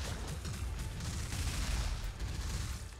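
Boss attack explosions in the video game Wizard of Legend, a dense rumbling barrage of booms and blasts rolling continuously, loud and low, with no voices.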